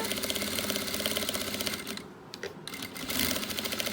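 A sewing machine stitches a cushion up close with a fast, even mechanical whir and needle chatter. It falls off briefly in the middle, then picks up again with no talking.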